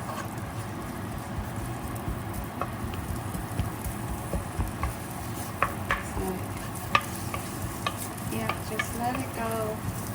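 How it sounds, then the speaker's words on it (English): Aromatics for a Vietnamese ginger chicken dish stir-fry in a hot pot, with a steady sizzle and irregular scraping and clacking of a utensil against the pot, fairly close and moderately quiet, with no talking. "So I'm just going to stir fry this for a minute or 2 just to get it fragrant."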